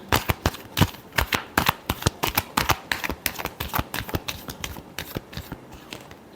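Tarot cards are shuffled by hand in a rapid run of crisp riffling slaps and flicks, close and fairly loud, with an uneven but continuous rhythm.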